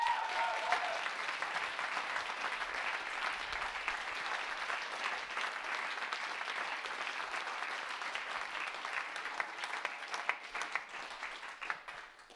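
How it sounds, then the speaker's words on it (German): Audience applause fills a theatre after a musical about Dietrich Bonhoeffer, a dense, steady wash of many hands clapping at even loudness throughout, with no talk over it. "Applaus für unseren Gott."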